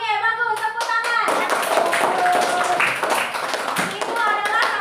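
Schoolchildren in a classroom clap their hands together in a brief burst while a teacher and kids talk over and around the clapping.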